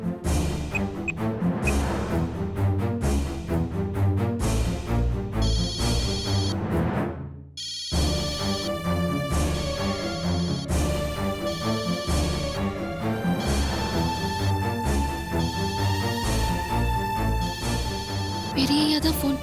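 A telephone rings in a Tamil television drama scene, its tone mixed into loud, busy background music that continues throughout.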